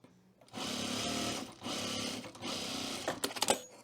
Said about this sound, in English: This is so easy to sew.